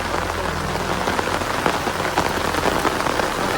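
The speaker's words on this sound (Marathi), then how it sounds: "मोठं येलो पाऊस" Loud, heavy monsoon rain pours down steadily on Konkan rice paddies, dense drops drumming close by, without any talking.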